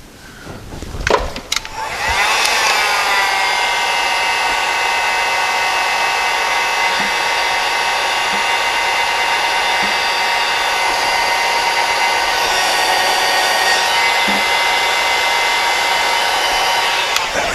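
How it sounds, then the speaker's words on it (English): A heat gun blows hard on heat shrink tubing over a horn wire, a loud, steady whooshing whine that starts after a couple of clicks and handling noises and holds for about fifteen seconds. "let's heat shrink it"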